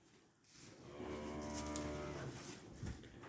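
Limousin calves on a farm give one drawn-out low moo lasting about two seconds, fairly quiet with a faint rustle afterward.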